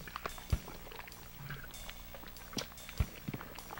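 Swimming through sewage water in Conker's Bad Fur Day on the Nintendo 64, soft sloshing and splashing strokes with a few sharper watery plops, fairly quiet and spaced irregularly, no voice.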